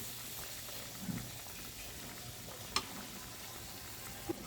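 Fish curry with tomato in a pan boils up right after hot water is poured in, making a faint, steady low sizzle and simmer with a few soft isolated pops and clinks.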